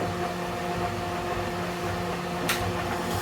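A Woodskil 9-inch benchtop bandsaw cutting through hard hickory wood, a steady mechanical hum with a whine, plus a brief burst of louder noise midway.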